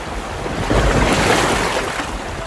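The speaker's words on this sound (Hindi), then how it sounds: "अचानक तेज हवाएं और समुद्र में तेज लहरें उठने लगी" Strong wind gusts and crashing high sea waves at open sea around a small boat, a steady loud roar of surf and wind noise swelling in the middle and continuing throughout, with no voices.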